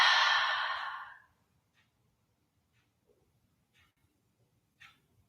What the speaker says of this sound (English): open the mouth, loud, audible exhale